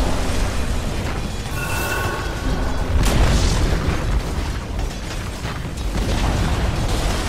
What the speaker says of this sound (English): Dire's middle tower has fallen.